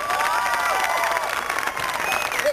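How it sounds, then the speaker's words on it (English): Crowd at a hypnotist show applauding and cheering for the on-stage volunteers, a steady wash of clapping with a few voices calling out over it. "please a huge round of applause for all of your stars"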